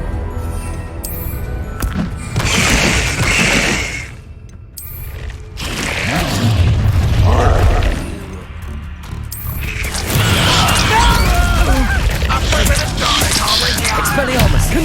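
Spell explosions in Hogwarts Legacy combat: a loud, continuous run of booming blasts, crashing impacts and mechanical clanks that burst and overlap for the whole stretch.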